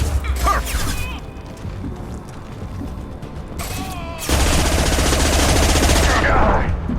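Rapid heavy gunfire in Mass Effect 2, loud dense bursts with a quieter stretch between them, then a sustained powerful barrage over the last few seconds, with occasional faint voice-like tones in the mix.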